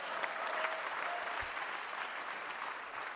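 Studio audience applause on a French television comedy panel show, sustained even clapping from a crowd that carries on steadily at a moderate level throughout, with a faint low bump partway through.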